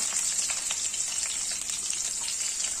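Garlic frying in oil with cumin in a pan, an even, bright, crackling sizzle that holds steady throughout with no speech.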